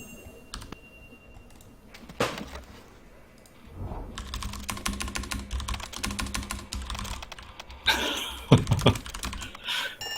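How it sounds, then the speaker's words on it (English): A mechanical computer keyboard clatters with fast, loud key presses in dense bursts while a puzzle game is played, starting with a few sparse clicks before settling into continuous close-up typing. "I have a mechanical keyboard"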